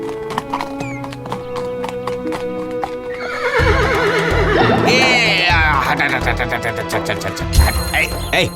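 A cartoon horse cart rolls along with a rhythmic clip-clop of hooves, and a loud horse whinny rises over it midway. Light music plays in the background.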